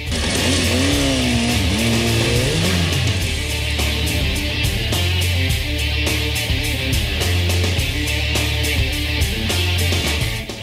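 Superbike engines rev loudly and continuously, a dense roar with rising and falling pitch sweeps early on and steady high-revving drones throughout, close and dominant with no voices.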